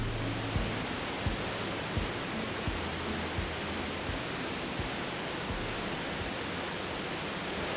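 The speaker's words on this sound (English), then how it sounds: "and this is Ebor Falls" Ebor Falls waterfall in Guy Fawkes River National Park, a steady broadband roar of falling water heard from a distance, constant and even throughout with faint low thumps underneath.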